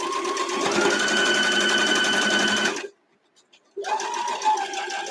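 A sewing machine stitches a quilt block in a fast, steady whirring run, stops for about a second, then starts again, loud and close.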